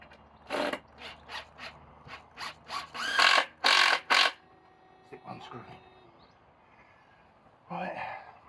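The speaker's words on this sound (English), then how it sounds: "So I'm going to use that as my fixed solid point to push against whilst I screw the screws in." Short bursts of a power screwdriver driving screws into a wooden chicken house frame, several brief whirring runs with pauses between, close and fairly loud with quiet background.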